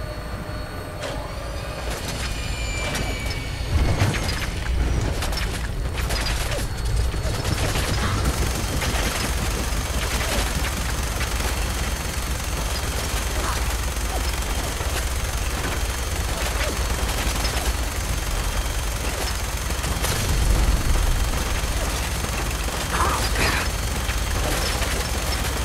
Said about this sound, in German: von wo kommen jetzt noch Schüsse?